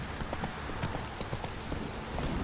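Horse hooves clip-clopping at a steady trotting rhythm in the video game The Witcher 3, continuous and prominent across the whole stretch with game ambience beneath.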